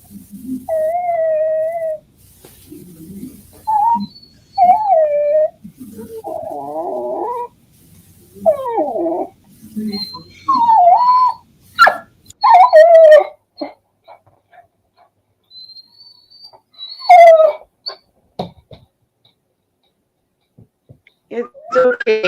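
A dog whimpers and yips in a string of high, wavering cries, close and fairly loud, with a person speaking softly in between.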